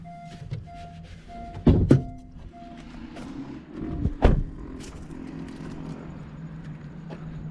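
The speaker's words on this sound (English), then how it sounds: "First thing we're gonna do, we're gonna pop the hood." Two solid thunks a couple of seconds apart, as an Acura MDX hood latch releases and the hood lifts, with faint clicks and quiet surroundings.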